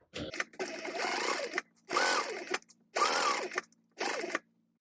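A sewing machine basting a tote bag seam, running in four steady bursts of a few seconds each with short pauses between them, close and clear, with no talk.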